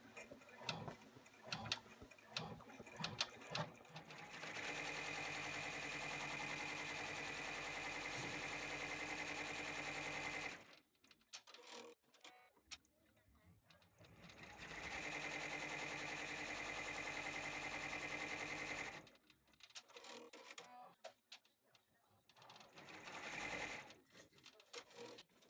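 An embroidery machine runs a placement stitch on a velvet pillow case, a steady rapid whirring chatter in two long runs separated by quiet handling noises and brief pauses.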